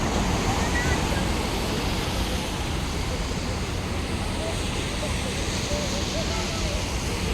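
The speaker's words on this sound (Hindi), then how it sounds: "ये लहरों की आवाज सुनो बस।" Ocean waves washing against the rocks of a Mumbai seashore make a steady, loud broadband roar with wind buffeting, holding constant throughout with no distinct breaks.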